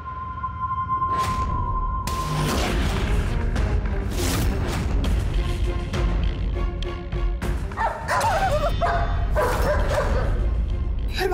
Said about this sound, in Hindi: कुकुर के भौंके के आवाज के लगा हुआ हो मोबाइल में?